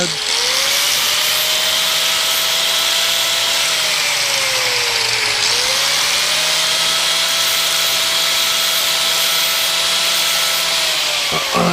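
A power tool bevels the edge of a small part for a customized 1/64 scale Peterbilt model, a steady loud whine running the whole time with one brief dip in pitch midway.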